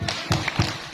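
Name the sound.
rhythmic hand clapping for the Tepuk Nabi chant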